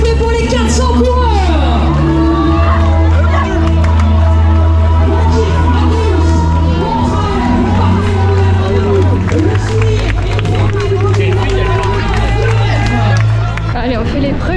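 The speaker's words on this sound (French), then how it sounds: "le public de Verdun, vos applaudissements s'il vous plaît pour les 400 coureurs" Crowd at an urban trail race start in Verdun cheering and clapping for some 400 runners, a loud continuous roar of voices and applause with a bright whistle-like tone running underneath throughout.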